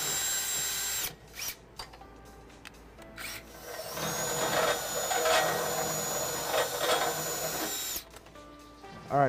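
A power drill bores a 1/2-inch hole into the steel frame of a 2016 Ram 1500 during a front-mount trailer hitch install, whining loudly in bursts with short pauses, then a long sustained grinding run.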